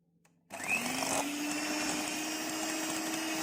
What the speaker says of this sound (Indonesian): margarin sama gula halusnya kita blender sampai dia itu menyatu nanti ya